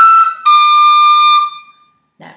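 Tin whistle plays three bright, close notes in a tongue-slur-tongue pattern: a short tongued note, a break, then a longer held pair joined by a slur. Brief rustling follows.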